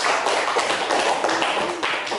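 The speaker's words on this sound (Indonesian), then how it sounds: "Tepuk tangan buat kelompok 3" A classroom of students clapping for a presenting group, a loud dense burst of quick hand claps lasting a couple of seconds, close and continuous.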